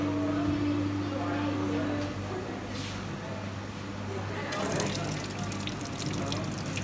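Pump-driven water jet striking a body in an impact-of-jet lab experiment, giving a steady hissing splash that swells louder near the end, with faint voices underneath.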